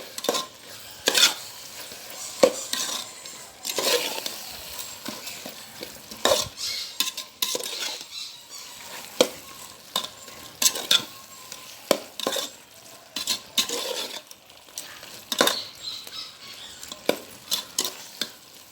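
Beef biryani masala being stirred in a pan, a spoon scraping and clattering in irregular close bursts against a soft sizzle, no voices.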